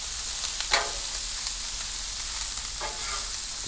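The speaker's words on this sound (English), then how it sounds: "I'm going to warm up some corn tortillas and I'm going to tear it up" Corn tortillas warm and toast in a hot pan, giving a steady close sizzle with a couple of brief scraping stirs.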